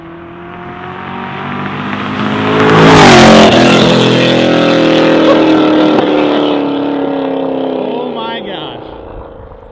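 A 2013 Camaro SS roars past at about 4,500 to 5,000 RPM, rising loudly as it approaches, peaking close by and fading with a falling pitch as it drives away.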